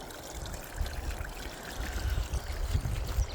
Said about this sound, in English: You see the water draining out down there.